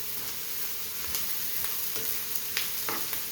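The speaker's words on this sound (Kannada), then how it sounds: "ಸ್ವಲ್ಪ ಈರುಳ್ಳಿ ಚೆನ್ನಾಗಿ ಫ್ರೈ ಆಗಲಿ" Onions with green chillies fry in a pan for egg palya, giving a steady close sizzle with a few soft stirring scrapes and no talking.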